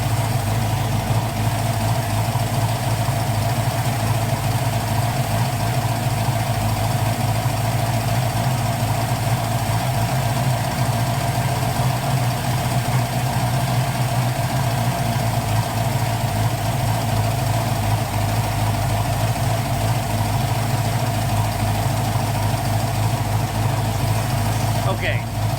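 1980 Pontiac Trans Am engine with Holley Sniper fuel injection idling steadily and evenly for a long stretch, a low continuous rumble heard close up.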